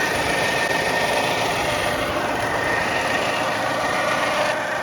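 A homemade rope tow motor for a DIY ski hill runs steadily with a constant mechanical drone and rubbing whir, loud and close, with no talking.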